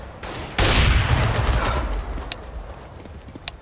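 Burst of rapid gunfire in the shooter game CS:GO, a loud sudden volley that then decays into scattered shots and clatter over a few seconds.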